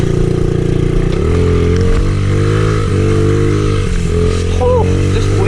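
A 50cc pit bike climbs a hill, its small engine droning steadily at high revs with pitch shifting as the throttle changes, close and loud with wind noise throughout.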